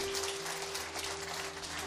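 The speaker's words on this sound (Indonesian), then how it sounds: "Mari kita beri tepuk tangan untuk Tuhan" A church congregation claps together in a dense, steady patter of hands, fairly near and unbroken for a couple of seconds with no speech over it.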